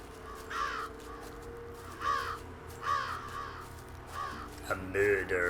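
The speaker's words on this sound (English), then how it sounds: "There's a crow up there" A crow caws in a spooky nighttime scene of the video game Jenny LeClue, giving several harsh calls spaced about a second apart over a low ambient hum, with a brief rustle near the end.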